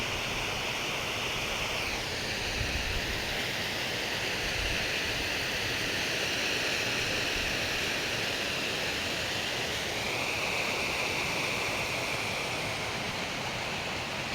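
A swollen woodland stream rushes steadily after a storm, its dense, even roar continuous and fairly close with no talk over it, the sound shifting slightly in tone partway through.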